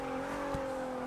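An Infiniti V6 revs in the racing game Forza 6, a steady, close engine drone carrying a strong tonal hum with a brief swell near the middle.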